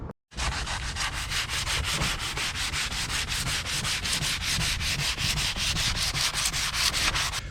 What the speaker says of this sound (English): One thing about using sandpaper is you do have to be a little more careful about staying with the grain